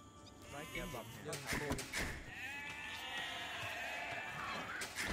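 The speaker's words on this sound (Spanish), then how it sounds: "Tenéis que estar atentos al sonido de las ovejas," Sheep in a real-time strategy video game bleat several times in quick succession, wavering calls that stand out clearly with little else around them.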